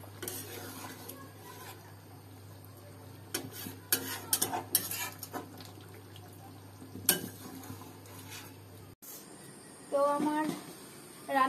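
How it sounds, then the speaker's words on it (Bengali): A finished dish gets a gentle stir in a pan, with scattered clinks and scrapes of a utensil against metal over a low background hum, then a brief sizzle near the end. "এবার হালকা হাতে একটু নাড়াচাড়া করে নামিয়ে নেব"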